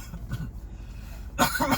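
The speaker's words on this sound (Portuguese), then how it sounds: "tô com um pouco de tosse ainda" A woman gives a few short coughs, a small one first, then a louder cough after a brief pause, close to the microphone.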